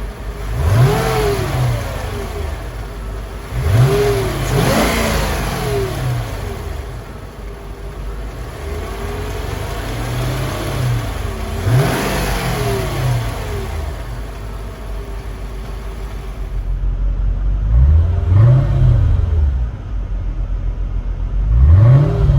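A 2005 Mercedes-Benz SL500 engine revs repeatedly, rising and falling in pitch in several bursts, loud and close, with a steady idle between pulls.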